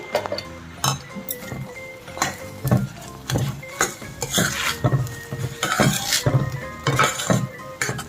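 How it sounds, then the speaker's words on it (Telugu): Spoon clinking and scraping against a pan while fried dry fruits and ghee are stirred into pineapple halwa; irregular, close metallic taps and knocks with soft scraping between, no talk. "ఇప్పుడు ఇంకొక స్పూన్ నెయ్యి వేసుకుని వేయించిన డ్రై ఫ్రూట్స్ వేసుకుని మళ్ళీ ఒకసారి కలుపుకోవాలి"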